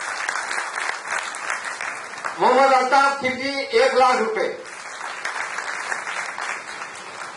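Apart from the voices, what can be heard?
audience applause for donors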